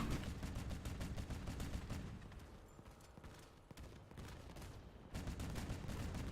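Relic missiles launched in a video game: a dense volley of rapid bursts and booms, loud and continuous, dipping briefly before another burst.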